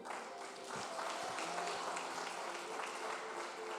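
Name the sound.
congregation applause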